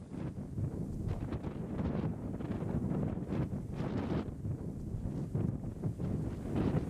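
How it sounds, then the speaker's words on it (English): Wind blows nonstop across an open outdoor landscape where a wagon and mule are camped, making a steady rushing roar with gusty buffeting on the microphone and no speech. "that wind just blew non-stop"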